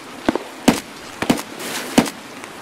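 Gunshots in Escape from Tarkov aimed at a sniper scav, several sharp cracks spaced irregularly over a few seconds, moderately loud and at a middling distance.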